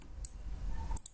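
A computer mouse is clicked on a web page, giving a couple of sharp, close clicks, one early and a quick pair near the end, over faint room noise.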